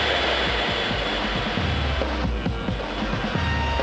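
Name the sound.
helicopter engines in flight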